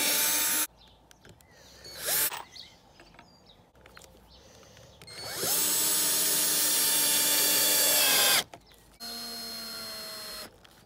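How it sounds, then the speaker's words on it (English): Power drill boring pilot holes into wooden cavaletti pole raisers, several whining bursts of varying length with quiet handling noise between them, close and loud. "So now I just need to drill some pilot holes there and on the underside of the other corners"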